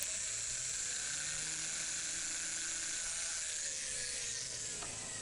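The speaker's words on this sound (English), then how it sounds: "just drill up that hole there" A small power drill whines continuously at high pitch, its tone shifting slightly as it bores a hole in a watch part, with no talking.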